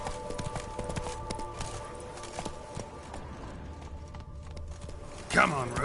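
Roach the horse gallops in The Witcher 3 with a steady, rapid clip-clop of hooves and a game music bed, voices heard over it, and a brighter burst of sound near the end.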